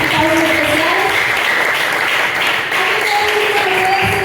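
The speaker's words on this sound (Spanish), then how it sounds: "Un fuerte aplauso para nuestros invitados especiales." Audience applause for special guests at a Christian church program: steady, loud, sustained clapping from a crowd, with voices and a tonal hum running underneath throughout.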